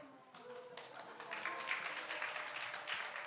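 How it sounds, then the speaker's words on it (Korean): Applause from a church congregation at a Sunday praise service, a quiet, scattered patter of clapping that gradually fills in and holds steady, with faint voices underneath. "박수."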